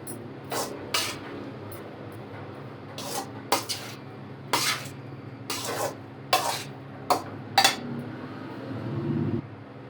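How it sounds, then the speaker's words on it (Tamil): Cooked rice being stirred with salt in a pot while making curd rice, a series of close scraping and clattering strokes at irregular intervals over a low steady background hum. "நல்லா கலரிக்கோங்க."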